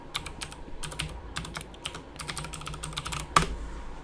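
Fingers tap out an email address on a computer keyboard, producing a quick run of crisp, close key clicks in uneven bursts, ending with one sharper, louder keystroke.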